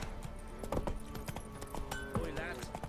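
Horse hooves clip-clop at a steady trotting rhythm in the video game The Witcher 3: Wild Hunt, clear and close, with some voice sounds mixed in around the hoofbeats.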